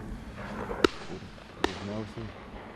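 Two sharp, distant shotgun shots about a second apart at a duck hunt at dawn, each a quick crack, over soft background noise and faint talk.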